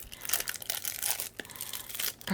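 Close, crisp tearing and crinkling of cardboard and paper packaging, a few quick rips in a row with no voices.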